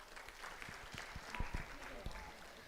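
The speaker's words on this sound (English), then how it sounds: "A round of applause for Varsha." Audience applause for a reader stepping up at a Bharatanatyam arangetram, a fairly faint, continuous patter of many hands in a hall with scattered louder claps.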